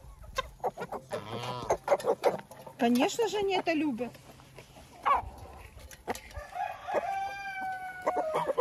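Backyard chickens and geese fed leftover buckwheat and rice porridge, clucking and squawking near the feeder while someone talks over them, with a rooster's crow and other fowl calls breaking in toward the end.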